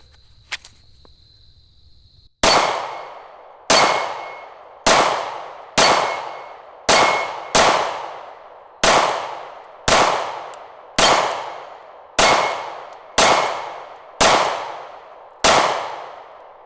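Sig P365 pistol fired at a range, a dozen sharp shots spaced about a second apart, each with a ringing tail, heard through electronic hearing-protection ear muffs after a short quiet lead-in.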